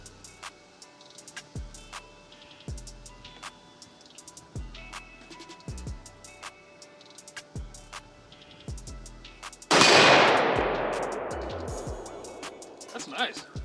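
A large handgun fires one loud shot at an outdoor range at about 15 yards, a sharp crack with a long ringing decay, after faint rhythmic mechanical ticking; no speech is heard.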